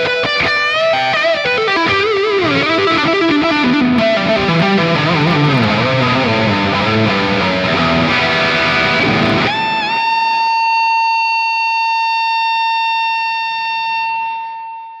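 Sire Larry Carlton L7 electric guitar on its neck pickup, played loud and dense for about nine seconds, then a single note sustaining and swelling into steady feedback that rings alone to the end.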